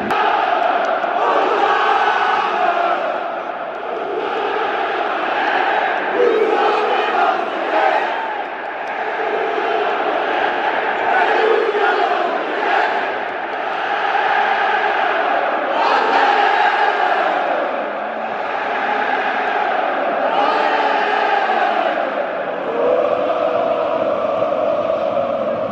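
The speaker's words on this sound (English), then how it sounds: "That stand is going absolutely nuts." Marseille ultras chant loudly and continuously in a packed stadium before a match against Feyenoord, a dense, rhythmic wall of massed voices swelling and dipping over nearly half a minute.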